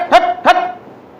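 A human voice imitating a barking dog, two sharp bark-like yelps in quick succession followed by a brief fading tail.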